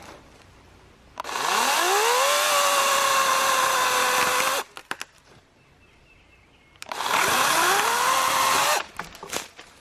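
A Litheli 40V cordless chainsaw cuts into a tree outdoors in two long, loud bursts of several seconds each. Its motor whines up to a steady high pitch and then drops off, with brief quiet handling sounds between the cuts.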